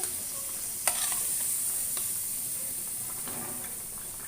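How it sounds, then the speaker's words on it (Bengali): Bean and potato curry with pieces of fried koi fish stirred in a hot pan, a steady sizzling hiss with a few sharp utensil knocks scattered through. "এবার আমি আবারও কিছু সময় নেড়ে চেড়ে দিচ্ছি"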